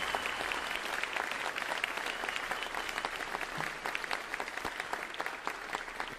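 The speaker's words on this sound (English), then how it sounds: "can we just have one round of applause for Mrs. Bone and Mrs. Clements and for all the work they did?" Audience applause after a school band spring concert, a steady wash of many hands clapping with sharp individual claps standing out, continuous for several seconds.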